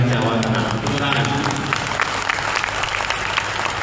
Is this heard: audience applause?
yes